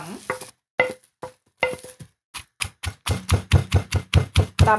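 Roasted chili pounded in a mortar for a Lao-style bamboo shoot salad: close, dull thuds, scattered and irregular at first, then settling into a steady, quicker pounding rhythm.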